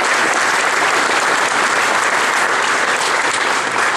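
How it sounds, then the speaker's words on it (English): Audience applause from a gathering during a governor's visit to an online trading card company, a sustained, loud, even wash of clapping from many hands throughout, with no talking over it. "let's give them a round of applause"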